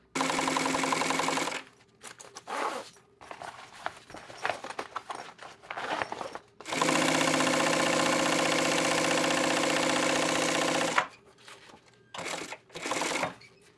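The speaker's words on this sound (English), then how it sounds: "Just need to take it over to the binding station, go around this whole area, circumference" Sewing machine stitching binding around the edge of a leather sling bag at a binding station, running in two long steady bursts with short start-stop runs and pauses between, fairly close and clear with no talk.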